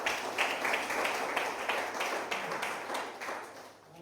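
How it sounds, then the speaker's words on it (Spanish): A church congregation clapping along together, producing a steady, fairly fast rhythmic beat of many hands that fills the room, continuous and moderately loud before it fades slightly at the end, with no talking over it. "¿Me hacen de palmas, Señor, con todo el corazón?"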